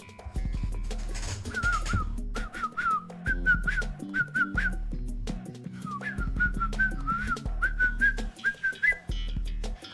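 A person whistles a wavering melody in clear, repeated phrases during a live Fall Guys game stream, close and prominent over a thumping low beat underneath.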